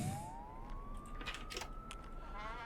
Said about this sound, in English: So more creepy kind of ambulance and police car sounds.